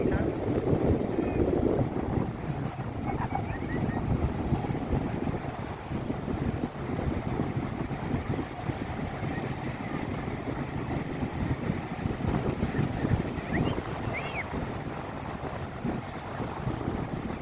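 Wind on a cold day at the seaside in Knokke buffets the microphone with steady low rumbling and gusts, with waves faintly beneath and distant voices now and then.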